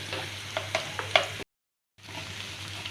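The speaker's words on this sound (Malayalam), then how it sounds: "കീറി വെച്ച പച്ചമുളക് ഇതിലേക്ക് ഇട്ട് കൊടുക്കുക." Ginger, garlic and slit green chillies sauté in a pan of oil for a fish pickle, giving a soft, steady sizzle with a few light stirring clicks, then a brief silence before the frying resumes.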